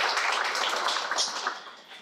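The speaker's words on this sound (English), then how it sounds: "So let's give them a big round of applause." Audience applause at a school ribbon cutting ceremony, a steady wash of many hands clapping at a fairly even level that gradually thins toward the end.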